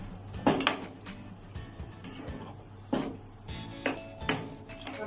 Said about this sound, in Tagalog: Then we will mix it.